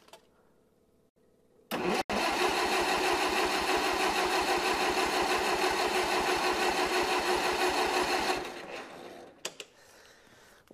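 A vintage Allis Chalmers forklift engine on choke catches abruptly after a quiet start and runs at a loud, steady, throbbing idle for about six seconds before dying away, leaving a few faint clicks.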